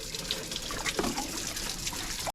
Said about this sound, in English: Okay, so we've washed the pot,